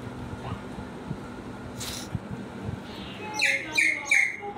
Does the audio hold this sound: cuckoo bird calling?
yes